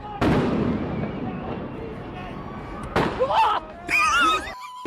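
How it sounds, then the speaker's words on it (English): Rubber bullets fired at protesters on a Los Angeles street: a chaotic crowd roar fills the scene, cut by several sharp bangs and pops near the end, with shouting voices in the mix. "Firing rubber bullets at protesters, moving them on through the heart of LA"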